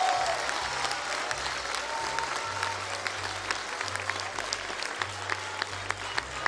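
A large crowd at an outdoor political rally in Oaxaca, Mexico, cheers for a promise to repave the state's roads. Dense applause rolls on steadily for the whole stretch, over a low hum.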